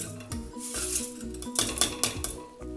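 Dry bamboo rice pours into a pressure cooker as a clattering cascade of small hard grains, with sharper ticks and rattles against the metal pot. The sound is moderately close and comes in uneven bursts.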